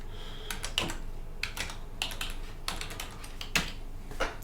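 Computer keyboard keys tapped in short irregular bursts as a root password is entered on a standard ARM machine, fairly close and clear with no talking.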